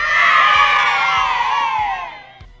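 A crowd cheers and shouts in a loud, bright burst of whoops and yells that sustains, then fades toward the end.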